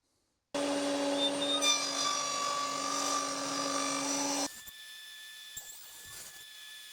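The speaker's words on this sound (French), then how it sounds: "On lance la scie et on va faire des passes successives pour pouvoir faire les" A power saw cuts successive grooves into a wooden batten, a loud steady whining cut running for about four seconds before dropping to a quieter hum with faint knocks after the blade leaves the wood.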